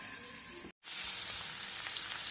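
Food frying steadily in a covered pan on a home kitchen stove, a loud continuous sizzle with one brief silent break near the start, no voices.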